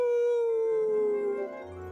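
A dog lets out a single long, loud howl that slides gradually downward in pitch and then fades out, with no other sound around it.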